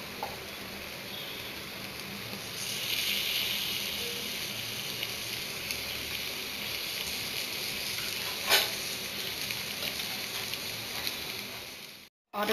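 Green peas drop into potatoes frying with spices, making a soft continuous sizzle with a brief louder crackle partway through, steady and fairly quiet before a short cut at the end.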